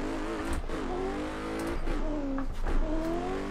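Nissan Z drift car on 100% boost revving hard and shifting up, engine note climbing in pitch, dropping at each gear change and rising again, loud and close with a faint tire squeal.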